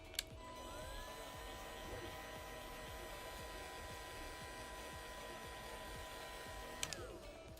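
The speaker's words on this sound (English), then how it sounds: "do have my printer that's next to me going too" A 3D printer runs nearby with a steady mechanical whir and faint stepper tones that sweep up and down, under a soft constant hum, with a couple of small clicks near the start and end.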